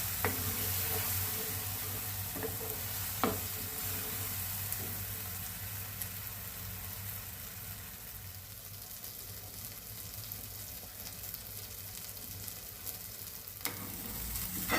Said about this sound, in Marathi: मसाला चांगला परतून घेऊ व्यवस्थित,